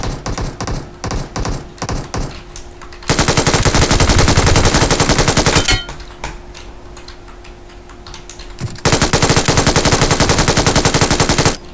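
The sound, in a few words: gunfire in the video game PUBG Mobile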